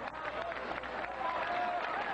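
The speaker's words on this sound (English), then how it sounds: "the crowd appreciating that run" A crowd at a nine-ball pool match applauds a run by Efren Reyes, a brief steady wash of clapping from many hands in a hall, with a voice talking faintly underneath.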